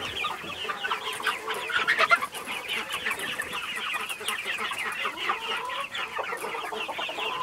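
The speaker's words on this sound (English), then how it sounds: "The heritage meat birds that we got from Cackle Hatchery are doing awesome." Heritage meat bird chickens on pasture cluck and chatter continuously as a busy flock, close and fairly loud, with no talking.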